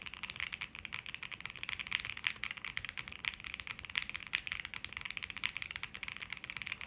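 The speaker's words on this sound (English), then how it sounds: "So let's look at the spacebar here. It's much louder actually in this guy over here." Spacebar on a Tiger Lite mechanical keyboard struck over and over, a fast series of crisp, close clacks with a sharp thock, steady typing rhythm and no voices.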